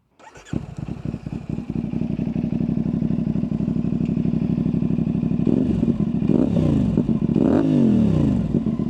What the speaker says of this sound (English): A Yoshimura AT2 slip-on exhaust, which I will give you some sound clips of here.